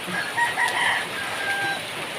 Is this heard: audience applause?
no